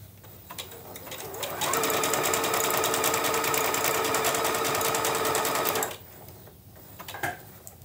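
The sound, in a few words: sewing machine stitching fabric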